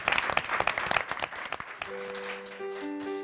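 An audience applauds to welcome a singer about to perform a song at a Filipino community event in Queens, a burst of close clapping that dies away as sustained piano-like tones begin underneath.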